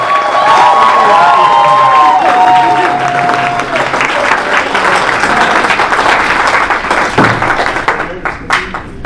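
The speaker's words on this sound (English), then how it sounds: "So y'all give him a loud clap." Loud, dense audience applause fills a hall, with scattered cheers and whoops over continuous clapping that slowly thins out toward the end.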